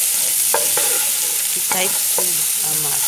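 Onion fries in oil in a large pan while cooking garlic and oil pasta, giving a steady sizzle under repeated scraping and stirring strokes; a voice speaks briefly.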